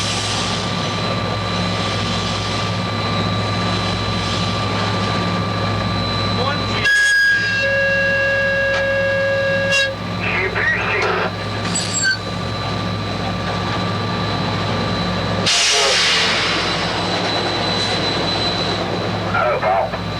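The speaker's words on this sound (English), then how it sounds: "Train approaching is the eastbound Pennsylvanian" Eastbound Pennsylvanian passenger train number 46 approaching, a loud steady rumble with sustained horn-like tones and short bursts of noise, continuous throughout.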